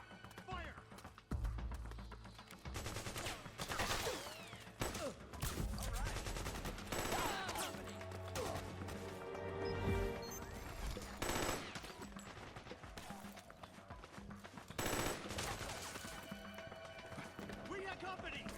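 Rapid bursts of automatic gunfire and sharp shots crackle through a Metal Gear Solid 4 firefight, dense and loud across the whole stretch, with soldiers shouting over the shooting.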